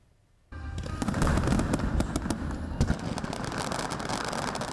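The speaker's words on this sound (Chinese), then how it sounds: "美丽灿烂的烟火宣告平湖国际海上花火节再度登场。" After a quiet moment, a dense barrage of fireworks erupts at a festival over the sea in Penghu, rapid crackles and pops layered over a continuous roar, loud and sustained to the end.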